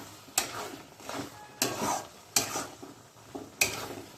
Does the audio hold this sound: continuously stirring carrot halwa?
yes